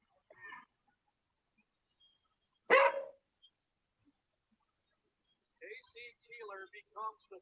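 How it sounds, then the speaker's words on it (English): A single loud, sharp dog bark sounds midway through a live sports talk show, with brief human speech before it and more talking afterward. "What is that dog?"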